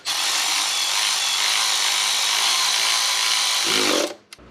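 A power tool runs continuously for about four seconds, driving intake manifold bolts down on a car engine top end rebuild, a steady loud whir that winds down and stops, followed by a short click.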